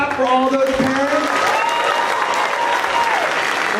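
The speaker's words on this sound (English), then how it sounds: "Can we give a big clap for all those parents?" Audience at a school show clapping for the parent volunteers, a steady wash of applause with voices rising over it in the opening seconds.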